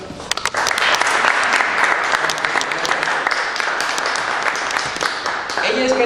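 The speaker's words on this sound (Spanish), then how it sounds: "Por favor, un aplauso." An audience at a Mexican lecture on establishing a new constitution gives a steady round of applause, dense and continuous throughout, close and fairly loud.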